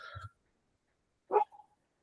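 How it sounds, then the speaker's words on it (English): Dog barks during a board meeting: a single nearby bark at the start, then after a pause a fuller bark followed by a short whine-like tail, with no talk over it. "I'm hearing my dog barking to my neighbor's dog."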